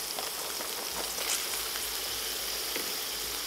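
Onion hitting a hot pan alongside grass-fed steak for a beef burrito wrap, giving a steady, dense sizzle and crackle with faint pops, close and continuous without talk.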